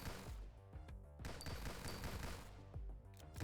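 Enemies in the roguelite shooter Nimrods fire volleys of bullets, a busy stream of rapid, faint gunshots and impacts in overlapping bursts, with no talking.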